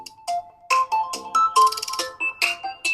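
A Tecno Camon 40 Pro phone plays a ringtone through its dual speakers: a bright, close, rhythmic melody of short synthesized notes in quick bursts, heard alone without talk.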